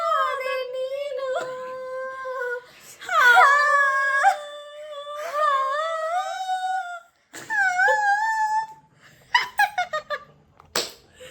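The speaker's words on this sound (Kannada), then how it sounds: "ಅಲ್ಲಿ ನಾಯಿಗಳು" Dogs whine and howl in long, rising and falling tonal cries, loud and close, overlapping at times and breaking into short yelps toward the end.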